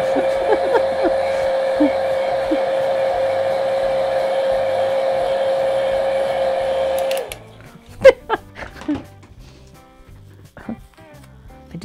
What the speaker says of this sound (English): I better check to see if that paint's dry. Not quite. I'm going to dry it.